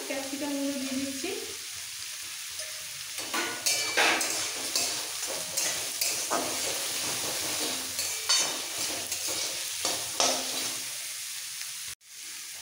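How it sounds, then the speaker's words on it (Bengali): Onion and chopped capsicum frying in a pan for veg fried rice, a soft continuous sizzle broken by repeated scraping stirs of a spoon, fairly quiet and close, ending with a sharp knock. "এবার পেঁয়াজটাকে একটু হালকা ভেজে নেবো আর সাথে সাথে দিয়ে দিচ্ছি এখানে ক্যাপসিকাম কুচি"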